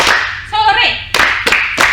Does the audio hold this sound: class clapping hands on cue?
yes